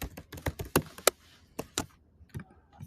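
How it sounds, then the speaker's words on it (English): Typing on a computer keyboard, a quick run of sharp key taps with short pauses between bursts, close and clear with no talking. "Thanks for watching me type."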